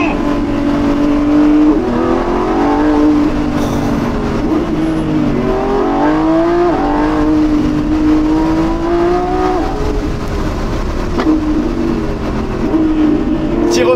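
A Lamborghini Revuelto, a 1015 hp V12 hybrid, accelerates hard with a loud, close engine note that climbs in pitch, drops back at each gear change and climbs again.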